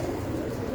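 Pigeons coo on a rooftop loft, a low, steady murmur of soft cooing that fills the short stretch without any talk over it.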